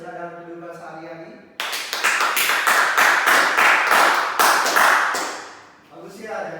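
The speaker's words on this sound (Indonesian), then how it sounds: "tepuk tangan untuk kita semua" Elementary school pupils in an Indonesian civics class clap together in a quick, rhythmic burst that starts sharply and stops abruptly. A voice speaks just before and just after.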